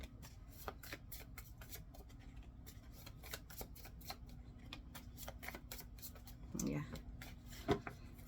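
Tarot cards are shuffled and drawn on a table, a quiet series of rapid riffling flicks and soft slaps with a couple of louder rustles, while a voice murmurs faintly underneath.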